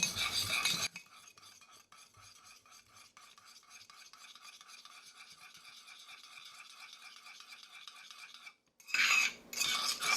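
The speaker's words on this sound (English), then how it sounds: "And we want to stir this very well." An egg yolk stirred well in a cup with a utensil, a steady rapid scraping and tapping rattle that runs close and even for several seconds, bracketed by louder handling noise at the start and end.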